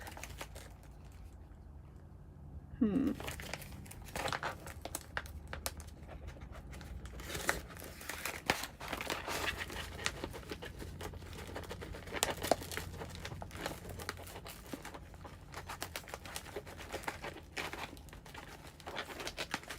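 Hands rummage through small pieces of cut paper and index cards at a crafting table, a close, quiet, steady crinkling and shuffling with soft taps and no talking.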